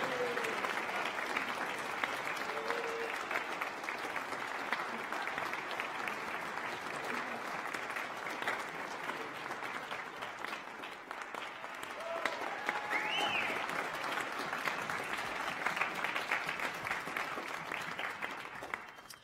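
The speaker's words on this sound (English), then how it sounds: "Let's give Edward a nice big round of applause." Sustained audience applause at a school bands concert after an award presentation, steady clapping from a crowd in a hall, moderately distant and even throughout with faint voices in it.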